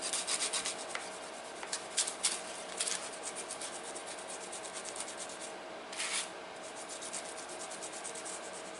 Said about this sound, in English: I'm cutting it with acetone and using this wire brush, and then very quickly wiping